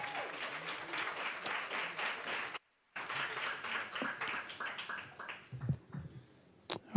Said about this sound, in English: people were clapping while the committee was trying to conduct its business